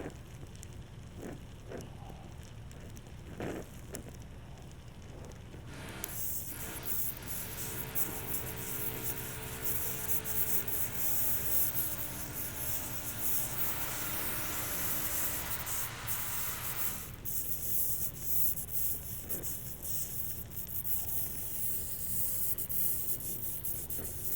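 Oxy-acetylene torch hissing steadily while welding a crack in metal, a continuous broadband rushing hiss that swells louder through the middle and then settles, heard close with no talk.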